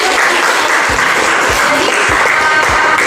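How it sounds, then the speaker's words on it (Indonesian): Classroom applause after a student's presentation during a field-practice teaching session: steady, dense clapping from a group of students, close and fairly loud throughout, with no talk over it. "tepuk tangan dulu"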